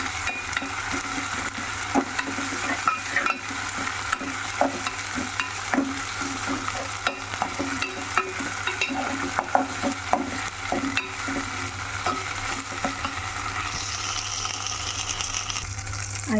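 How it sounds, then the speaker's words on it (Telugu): Ginger garlic paste fries in a pan for mutton curry, giving a steady broadband sizzle with repeated scraping and stirring clicks throughout, close and fairly loud, with no voices. "అల్లం వెల్లుల్లి పేస్ట్ కూడా బాగా ఫ్రై అయిపోయింది"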